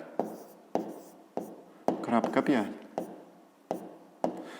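A pen or pencil writing a figure heading on paper during a fifth-grade maths exercise: short strokes and taps in an irregular rhythm, close and quiet, with brief speech partway through.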